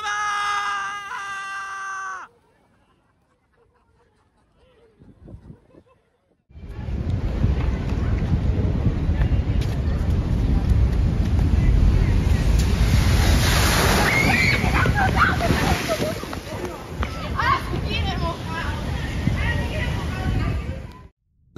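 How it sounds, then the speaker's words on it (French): Massive ocean waves break along the San Sebastián shore in a heavy roaring crash with wind buffeting the microphone, loud and sustained for many seconds after an opening stretch of talk and near silence; shouts rise over the surf. "Si tu cherches à apercevoir des vagues vraiment massives, c'est à San Sebastián qu'il faut te rendre."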